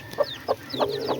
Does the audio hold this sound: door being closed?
no